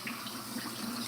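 Water runs from a kitchen tap while coffee is being made, a steady close splashing stream with no talking.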